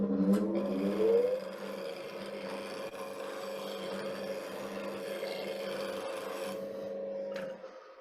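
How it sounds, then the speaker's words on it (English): A woodturning gouge is sharpened on a bench grinder while turning a winged bowl, giving a steady, moderately loud grinding whine with a rough rasp on top. The whine holds for about seven seconds and then stops. "What I'm going to do is just sharpen this gouge on my grinder."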